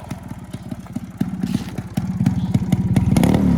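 Yamaha RX135 motorcycle engine close by, its silencer giving a low, throbbing exhaust burble that builds steadily as the throttle is blipped and revved over a few seconds, with sharp pops and clatter on top.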